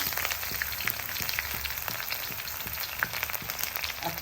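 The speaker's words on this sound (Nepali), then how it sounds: "अब यो पाकेपछि यो प्याज हाल्दिए" Onion fries in oil with cumin, chilli and bay leaf, producing a steady light sizzle speckled with small crackles and pops, close by and fairly soft, with no talking.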